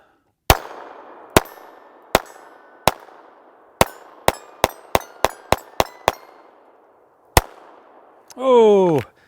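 A Taurus TX22 compact pistol fires CCI Uppercut .22LR rounds as about a dozen sharp, close cracks, first spaced out and then in a quick string, followed by a short spoken remark.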